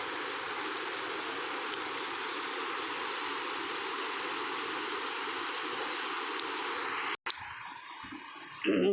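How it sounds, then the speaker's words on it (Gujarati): River water flowing steadily where two rivers meet, a continuous broadband rush that stays loud and even throughout before a brief break and shift near the end. "આ છે નદી હોળવદરી બાજુથી આવે છે"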